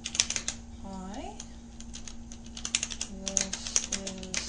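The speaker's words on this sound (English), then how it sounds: "And so I can just start typing." Keys clatter in a quick, irregular run of taps on a Braille TTY keyboard, fairly quiet and close, with a few short electronic beeping tones mixed in.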